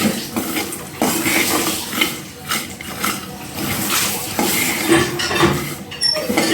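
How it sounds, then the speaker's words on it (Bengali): Spice ingredients being dry roasted in a pan, with steady scraping and clinking of a utensil against the metal and a continuous rustle of dry seeds shifting, close and fairly loud throughout. "বাদ বাকি যেগুলো আছে সেগুলো উপকরণগুলো আমি এখন ড্রাই রোস্ট করে নেব ড্রাই রোস্ট করে নিচ্ছি"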